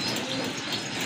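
A pair of female Chinese owl pigeons coo softly and continuously at close range, a low steady murmur with no speech.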